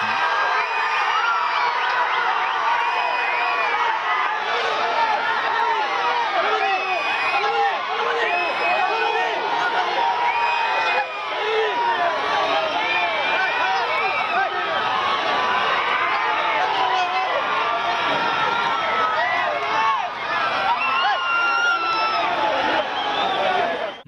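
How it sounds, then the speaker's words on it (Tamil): Dense outdoor crowd of the public cheering, shouting and whooping for Chief Minister Vijay as he waves from a road, a loud continuous roar of voices with scattered high calls lasting throughout. "முதலமைச்சர் விஜயை பார்த்ததும் பொதுமக்கள் கரகோஷம் எழுப்பி ஆரவாரம் செய்தனர்."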